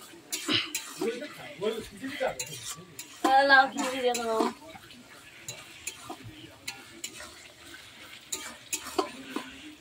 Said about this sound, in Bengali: রসুনটা দিয়ে ভালো করে নেড়ে নেব